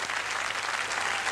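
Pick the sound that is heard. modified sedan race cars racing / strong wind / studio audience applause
studio audience applause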